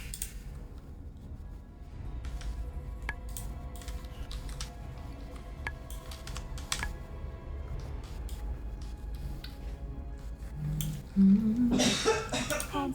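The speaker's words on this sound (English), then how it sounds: "just coughing up a lung in the other room" A person coughs in another room: a rough, loud cluster of coughs bursts out near the end over a steady background hum and scattered small clicks.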